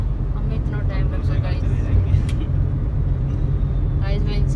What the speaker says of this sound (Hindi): हम निकल चुके हैं, बहुत ज्यादा ट्रैफिक है